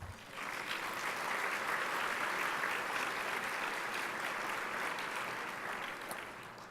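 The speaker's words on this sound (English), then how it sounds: "Please give them another round of applause." An audience at a chamber of commerce banquet breaks into sustained applause, with the clapping swelling quickly and holding as an even, full roar before tapering slightly at the end.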